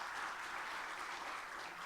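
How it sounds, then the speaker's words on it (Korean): Steady, dense applause from a large hall audience at a Democratic Party of Korea primary event, cheering the party's interim leadership, a continuous even clatter of many hands with no voices on top. "우리 지도부 분들께 박수 한번 부탁드립니다"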